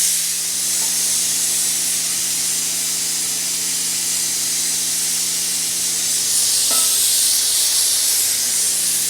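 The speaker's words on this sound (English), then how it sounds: "The pressure cooker is steaming away" A pressure cooker vents steam in a steady, loud hiss that runs unbroken, with a faint hum beneath, during cooking of a beef nihari and Bengali curries.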